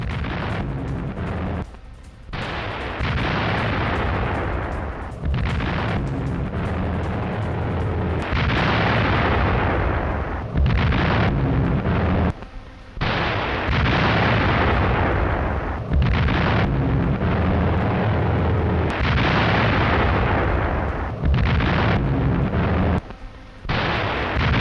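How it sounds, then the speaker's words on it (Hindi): Loud Russian artillery fire in the war in Ukraine booms again and again, heavy blasts and rumbling explosions following one another with short gaps, close and powerful throughout. "रूस की आर्टिलरी यूनिट का बड़ा अटैक"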